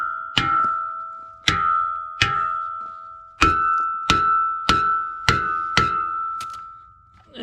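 A hammer strikes the bolts of mulching knives on an F450 in eight sharp metallic blows, each ringing out with a clear tone. The hits come at uneven intervals, loud and close, with no talk.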